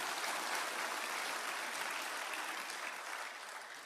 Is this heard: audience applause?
yes